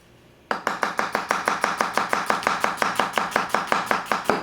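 Murata 165mm nakiri knife chopping onions on a cutting board, a steady run of about twenty crisp, evenly spaced chops that start after a short pause and keep a brisk, regular rhythm, close and clear with no talk.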